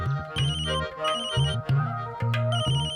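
A mobile phone ringtone plays alone, a looping melodic electronic tune with repeating bright phrases, fairly loud and close with no talk over it.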